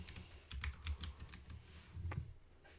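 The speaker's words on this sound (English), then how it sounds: "we're going to type t-shirt" Typing on a computer keyboard, a short run of soft, close key presses in an uneven rhythm, with a few taps clustered together and no voice over them.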